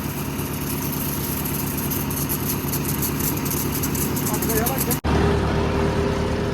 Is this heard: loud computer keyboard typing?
no